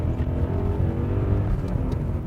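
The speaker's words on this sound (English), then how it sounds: "put your foot down and hear that engine roar" A 2001 BMW M5 with a 5-litre, 400 horsepower V8 roars loudly and steadily under acceleration, a deep continuous rumble with no talking.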